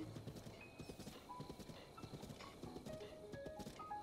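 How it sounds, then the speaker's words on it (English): Horse hooves clip-clop in a quick steady rhythm in Zelda: Breath of the Wild, with a short whinny and faint chimes over the galloping, fairly quiet and without talk. "Hey, there's a horse, but it's being ridden by..."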